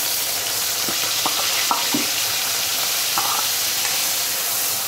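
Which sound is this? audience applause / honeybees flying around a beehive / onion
onion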